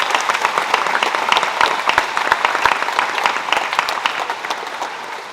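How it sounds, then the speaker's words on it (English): Audience at a graduation assembly applauds steadily, a dense wash of many hands clapping with sharper individual claps poking through, sustained at even loudness throughout. "can we get a round of applause for Sudan again?"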